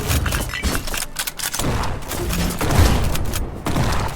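A frag grenade goes off in the game Black Skylands, and a burst of loud cracks and booms follows, with repeated sharp impacts and rumbling debris running across the moment.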